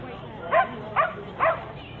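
A Dalmatian cross Jack Russell Terrier gives three short, evenly spaced barks at close range, each a quick yappy burst with brief pauses between.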